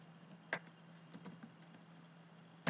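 Computer keyboard shortcuts, copy-paste then save, tapped on a laptop: a couple of isolated crisp key clicks with light taps between, quiet and close over a faint steady hum.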